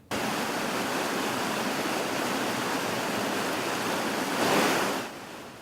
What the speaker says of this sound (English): That is the sound of gallons and gallons of water gushing from that busted water main